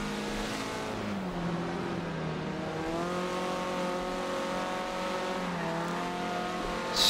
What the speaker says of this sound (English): Scotty Guy just finished off with a bit of drifting